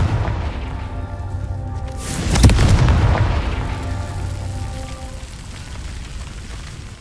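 A deep booming blast from the Confringo fire spell in the game Hogwarts Legacy, swelling at about two seconds over a steady crackling, rain-like ambience, then rumbling slowly away.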